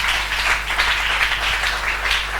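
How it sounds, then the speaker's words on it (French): A church congregation applauding the name of Jesus Christ, a dense, steady wash of many hands clapping together, fairly loud and continuous over a low hum, with no talking. "On acclame le nom de Jésus-Christ."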